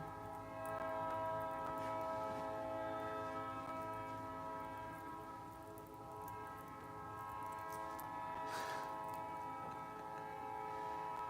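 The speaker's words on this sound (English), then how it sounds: "There's the train." A train rumbles past at a distance, its horn sounding in long, sustained chord-like blasts that swell and hold for several seconds over a steady rolling drone, with no voices.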